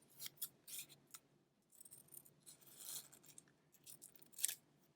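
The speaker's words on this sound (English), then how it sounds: "I'm going to go ahead and trim it up and make sure, just like we did with the heart." Scissors snip paper while a Valentine's pop-up card is trimmed, a few crisp, close cuts spaced irregularly between quieter rustles of the paper, faint overall.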